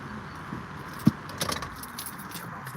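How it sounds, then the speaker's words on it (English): Keys jangle as a car is switched off, in a parked car near railway tracks in Iowa. One sharp click is followed by a brief rattle of keys over a low, steady background hum. "turn off the car for a few minutes here"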